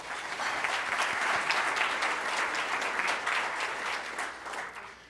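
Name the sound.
audience applause at club meeting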